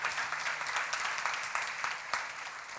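Sustained applause from a church congregation at a seminar, with a few sharper claps standing out near the end, and no talking over it.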